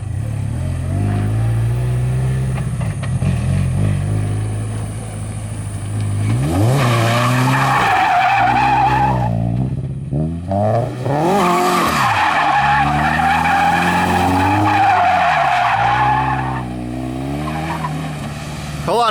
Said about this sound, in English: try to just do drift donuts around that puddle of water